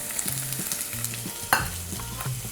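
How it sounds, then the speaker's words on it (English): Onions hitting hot oil for a one-pot vegetable dal, giving a steady close sizzle with a sharp burst of crackle midway, low stirring rumbles underneath, no voices. "Next, I'm going to add my onions to the oil mixture"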